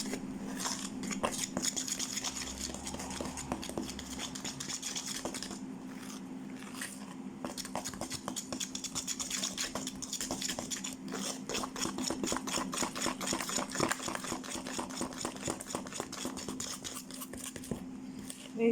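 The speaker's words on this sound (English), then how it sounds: "And we're just going to whisk all that in." A whisk beats chocolate cake batter in a bowl for a quick microwave cake, steady rapid clicking and scraping strokes repeating closely throughout, with a low steady hum beneath.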